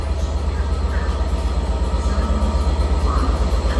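Class 67 diesel locomotive hauling Mark 4 coaches and a DVT departs Cardiff Central, its engine thrashing in a loud, steady low rumble with rhythmic pulsing throughout, no talk.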